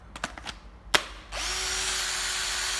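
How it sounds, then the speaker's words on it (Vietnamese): An old Hitachi 12V cordless drill, used, is tapped and handled with a few clicks, then spins up into a steady, loud whine that runs on evenly to the end. "một bộ máy khoan Hitachi 12V"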